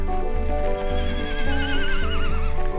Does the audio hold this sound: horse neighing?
yes